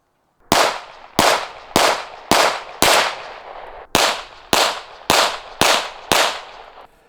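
Ten rapid, loud pistol shots from ported, compensated Staccato P handguns fired at 25 yards, each a sharp crack with a short decaying tail, spaced roughly half a second apart with one slightly longer pause midway.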